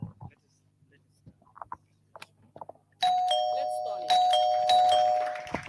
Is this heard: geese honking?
no